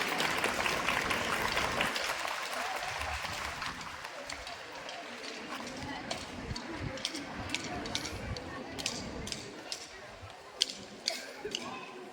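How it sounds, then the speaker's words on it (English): An audience claps at a school investiture ceremony, a dense round of applause loudest at the start that thins into scattered, sharper individual claps, with faint voices in the room. "A great round of applause for them."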